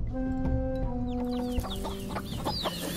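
Domestic chickens clucking nearby, with a rapid series of short, overlapping clucks and squawks from several birds against a constant low background hum.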